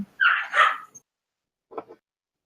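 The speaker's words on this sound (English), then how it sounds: "dogs, quit barking at each other" Dogs bark at each other indoors, a couple of loud yips close together followed by a fainter bark after a brief pause.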